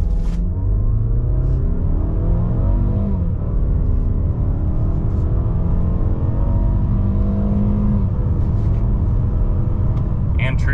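A 2023 Mazda CX-5 Premium Plus AWD in sport mode with a CVT launches from 0 to 60 at about 3,000 feet altitude. A steady loud engine drone rises smoothly in pitch from inside the cabin, with a brief dip partway through.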